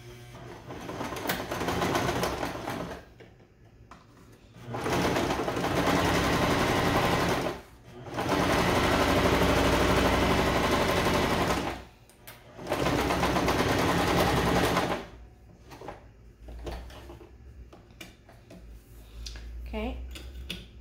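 Sewing machine stitching a quarter inch seam on a flower pillow kit, running in three long steady bursts with pauses between, plus a shorter run near the start, and voices talking in the gaps.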